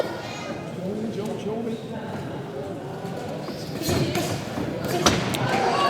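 Punches land in an amateur boxing bout at Oldham Leisure Centre, a few dull thuds under continuous commentary and crowd murmur, with sharper impacts near the end.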